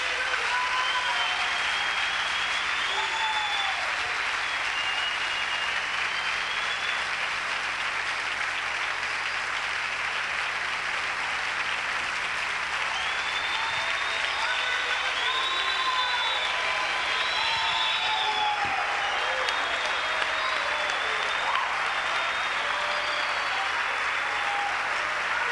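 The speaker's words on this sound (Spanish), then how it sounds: "Démosle un aplauso cerrado al Señor." A church congregation keeps up sustained, dense applause for the Lord, with scattered shouts and voices rising above the clapping throughout.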